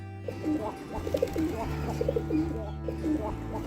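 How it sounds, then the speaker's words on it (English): A pigeon coos softly in a repeated, rhythmic pattern of low throaty calls, close by, over a faint background hum. "This is pigeon."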